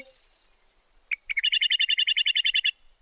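A cartoon sparrow chirps: two short lead-in notes, then a quick burst of about fifteen bright, evenly spaced tweets, clear and alone against near silence.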